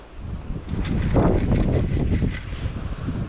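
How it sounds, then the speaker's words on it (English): Wind gusting across an open river pool during late-season trout fishing in Austria, a steady broad rush with buffeting microphone noise that swells in the middle and stays constant throughout, with no voices. "Wind is going to make things interesting as well."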